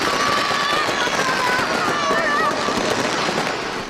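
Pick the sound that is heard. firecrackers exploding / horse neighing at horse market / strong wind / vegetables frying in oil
firecrackers exploding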